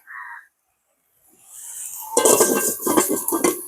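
A cooking pot gets covered with a lid: a short clink, a pause, then a loud rattling clatter of metal settling on the pot, close by.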